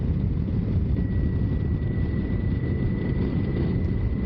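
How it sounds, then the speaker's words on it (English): Steady wind roar buffets the rider of a Vulcan 900 motorcycle cruising a state highway, a dense continuous rush with a faint engine hum underneath, loud and unbroken throughout. "Wind has picked up a little bit."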